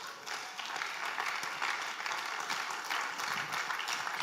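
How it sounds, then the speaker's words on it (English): Crowd applause at an exhibition and business summit, continuous brisk clapping from a large audience that stays even and moderately loud through the whole stretch. "Come on, if you're clapping, clap now."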